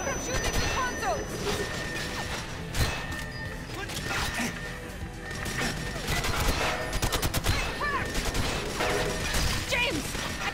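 Gunfire in the GoldenEye Reloaded video game as enemies shoot at the consoles, with dense, continuous rattling shots and mechanical clatter under busy game sound and voices.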